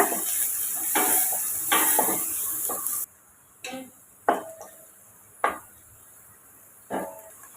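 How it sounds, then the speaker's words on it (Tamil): Vegetables, including cauliflower, sizzle and are stirred in a pan: a steady hiss for a few seconds, then quieter with a handful of sharp scraping clinks of a spatula against the pan. "காய்க்கு தேவையான உப்பு சேர்த்து வதக்கிக்கோங்க"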